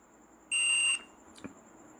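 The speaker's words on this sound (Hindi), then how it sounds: "ये क्या हो रहा है, बीप का आवाज़ आ रहा है ना" A multimeter in continuity mode, tested on a Frontech home theater circuit board, gives one steady, clear, high electronic beep lasting about half a second, followed by a faint tap in a quiet room.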